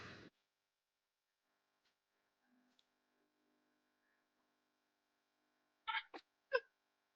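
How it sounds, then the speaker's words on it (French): One sharp, brief sneeze bursts out at the very start during a gaming stream, followed by near silence and a few short, faint clicks and bursts later on. "j'éternue juste."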